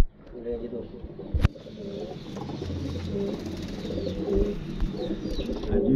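Pigeons of the Commander breed coo softly amid flock chatter, with a brief sharp bang early on; someone talks over much of it.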